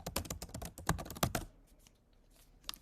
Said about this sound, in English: she's just using her keyboard